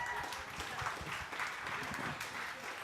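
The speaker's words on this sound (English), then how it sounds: "Round of applause for Mathilde." Lounge crowd applauding a woman as she joins the hosts, a steady broadband wash of clapping at moderate distance with faint voices mixed in.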